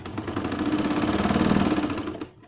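A sewing machine stitches a baby summer shirt, its close, rapid mechanical chatter running steadily for about two seconds before slowing and stopping.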